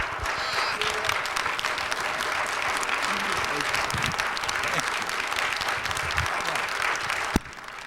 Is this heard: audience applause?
yes